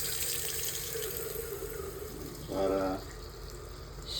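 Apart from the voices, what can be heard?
water draining from dishwasher supply line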